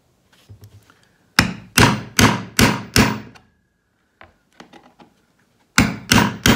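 Hammer blows on a dust collector blower housing in a workshop ring out loud and close, a few light taps first, then a run of four heavy metallic bangs, scattered lighter knocks, and three more hard strikes at the end.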